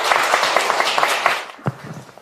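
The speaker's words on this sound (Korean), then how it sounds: "박수로 맞이하겠습니다" Audience applause welcoming a speaker to the podium at a lecture on biblical sex education, a dense patter of many hands clapping steadily at moderate distance before tapering off into a few scattered claps.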